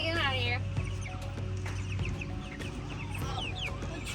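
Several chickens cluck and squawk up close in a feeder where they lay eggs, their busy overlapping calls mixed with handling noise and a voice speaking.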